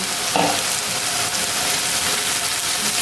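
Meat, onion and sliced pepper frying together in a full wok, a loud steady sizzle with crackling throughout and no voices.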